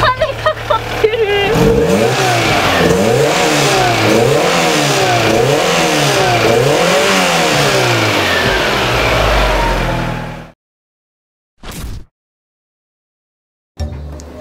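Alfa Romeo 155 engine fitted with an aftermarket tubular exhaust header, revved repeatedly in close, loud rising and falling sweeps for about ten seconds before cutting off, followed by a couple of brief separate noises.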